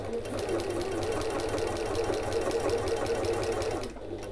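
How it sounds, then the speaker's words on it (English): A domestic sewing machine stitches around the four sides of a fabric piece for an evening bag, giving a steady, close mechanical whir with a fast rhythmic needle clatter that stops abruptly near the end. "I'm just going to sew around all four sides of this piece."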